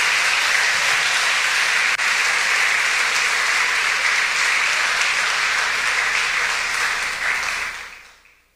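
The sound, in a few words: church congregation applause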